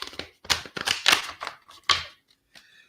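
A tarot deck is shuffled by hand, giving a quick run of crisp, papery flicks and riffles that fade into a few faint taps.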